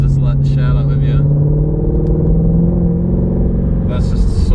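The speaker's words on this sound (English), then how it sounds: "So the car was just making a lovely noise" A stock Shelby GT350 V8 engine runs at partial throttle while driving in snow, a deep, steady, rumbling drone, loud and close.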